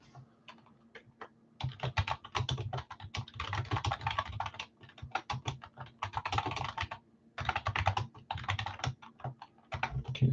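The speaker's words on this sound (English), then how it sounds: "Let me type this up really quickly." Fingers type quickly on a computer keyboard, close and crisp, in bursts of rapid clicks broken by short pauses, with no talking.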